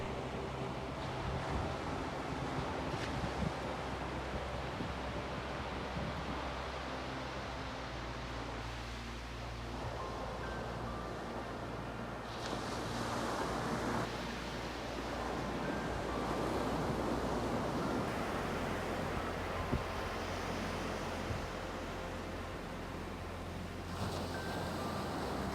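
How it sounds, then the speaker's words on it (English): Surf rolls onto a golden sandy beach on Iceland's Snæfellsnes peninsula, a steady soft roar of breaking waves mixed with wind across the microphone, with no voices. "this was one thing I wasn't expecting to see in Iceland, a lovely golden sandy beach"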